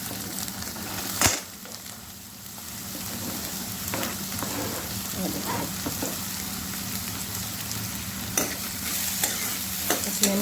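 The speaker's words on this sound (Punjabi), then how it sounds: "ਬਸ ਇਹਨੂੰ ਹਲਕਾ ਜਿਹਾ ਫਰਾਈ ਕਰਨਾ ਹੈ" Onions sizzling in hot oil as a base for saag, with a steady frying hiss and occasional scrapes of a spoon stirring the pan, close and fairly loud, with no speech.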